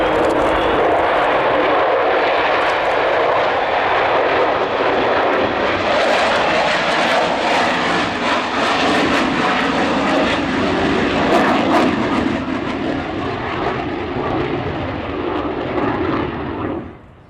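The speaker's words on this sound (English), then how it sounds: "Extraordinary sound of those four Rolls-Royce Bristol Olympus 202 two-shaft turbojet engines" A loud, sustained roar of an Avro Vulcan bomber's four Rolls-Royce Bristol Olympus 202 turbojets as it passes overhead at RIAT 2009, rumbling steadily before fading out at the end.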